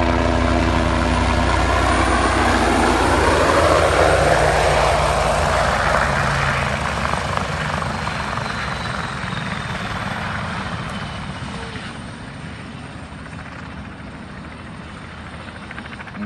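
A Bo 105 helicopter roaring loud and close, with a dense, constant rotor and engine drone that slowly fades a little over the span, with no speech.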